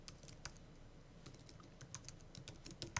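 A computer keyboard being typed on to enter a file name, a quick run of close, crisp key taps in an uneven rhythm with no voice.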